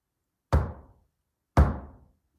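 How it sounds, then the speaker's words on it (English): Two separate knocks on a hard surface about a second apart during a night investigation at a cabin, each a sharp dull thud with a brief decay, otherwise silent. "give me two knocks"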